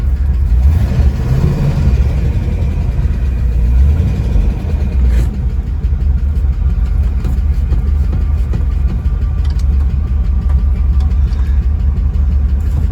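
A 1964 Ford Falcon engine, being revived and driven for the first time in 47 years, runs loud and close with a steady low rumble and a slight swell in revs early on, alone throughout.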